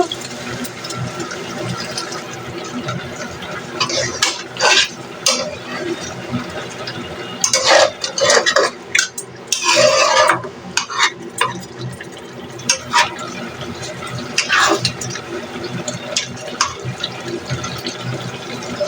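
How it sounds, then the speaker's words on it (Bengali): Water poured into frying spice masala with meat in a cooking pot, giving a loud close splashing hiss followed by bursts of sizzling and stirring. "এখন আমি এতে কষানোর জন্য একটু পানি দিয়ে দেবো, ঝালের পানি ছিল।"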